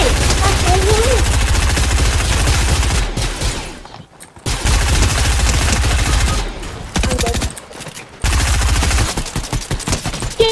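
Rapid automatic gunfire from the Fortnite video game, loud bursts of shots with two brief silent gaps between volleys, while a player talks over the shooting.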